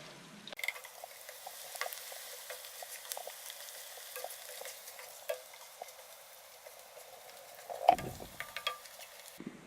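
Onions and garlic sauté gently in a pan for a Sunday tomato gravy, giving a soft continuous sizzle with scattered stirring scrapes and clicks and one louder clatter near the end. No talking.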